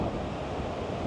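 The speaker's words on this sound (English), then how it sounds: "still windy" Steady wind rushing and buffeting the microphone at a roadside stop during a two-up motorcycle trip through Tasmania, a continuous broadband roar with no break and no voices.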